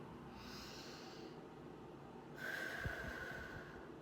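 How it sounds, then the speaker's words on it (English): A slow deep breath, first a soft airy inhale and then a longer, stronger exhale with a brief nasal snort partway through, close and steady with no talking. "take a deep breath with me"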